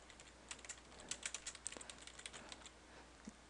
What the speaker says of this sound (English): inside this parentheses, this is where we type in our message